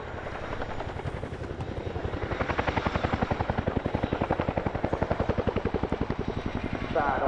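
An RAF Chinook twin-rotor helicopter climbs during a flying display at RIAT 2022, its loud rhythmic blade thumping pulsing steadily and close while an announcer speaks over the public address.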